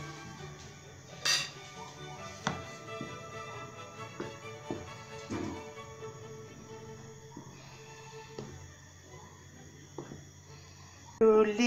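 Spoon scraping and clinking against a pot while milk is stirred for making paneer, soft intermittent taps and scrapes at close range beneath a person talking, with a louder clatter at the very end.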